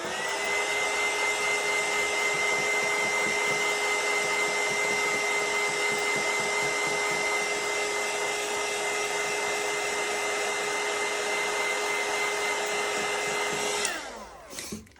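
A heat drying tool blows steadily over a mixed media journal cover, a loud, continuous whirring hum that holds for most of the clip before switching off abruptly near the end.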